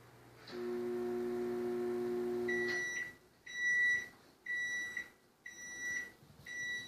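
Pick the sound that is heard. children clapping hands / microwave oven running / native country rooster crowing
microwave oven running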